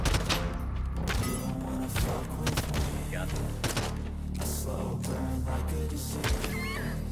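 Gunfire in the video game Realm Royale comes as rapid close bursts and thumps over a dense game soundscape, with a player talking over the action.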